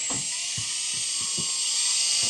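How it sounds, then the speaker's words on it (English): A drill bores a hole through the roof of an N70 Hilux for a cable gland, giving a steady high whine with soft, evenly spaced low knocks beneath it. "Harry's is going to drill the pole hole now for the cable gland for the DEUTSCH plug bracing plate"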